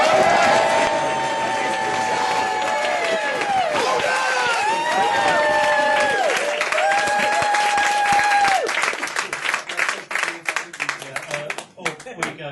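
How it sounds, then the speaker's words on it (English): An audience at a Marlborough Nights show claps and cheers, a dense loud crowd sound with whoops and voices rising over the applause before breaking into scattered claps and chatter. "So 1, 2, 3, clapping, cheering."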